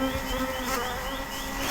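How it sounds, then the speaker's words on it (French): Honey bees buzz steadily over a hive frame whose comb is only partly built, a dense, continuous hum held close and loud without pause. "Il y a des abeilles dessus, ça travaille."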